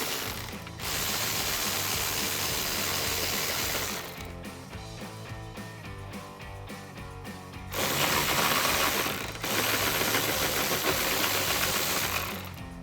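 Close, steady ratcheting clicks from a ratchet wrench removing bumper nuts on a 2018-2023 Mustang GT, coming in several sustained runs with brief pauses between them.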